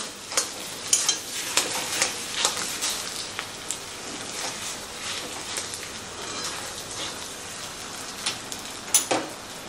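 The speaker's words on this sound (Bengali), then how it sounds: "তো আলুটাকে দিয়ে খুব ভালো করে মিশিয়ে নিতে হবে।" Boiled mashed potato is stirred and mixed in a hot pan, giving a soft continuous sizzle broken by sharp scraping clicks of a spoon against the metal at irregular intervals, close and without talk.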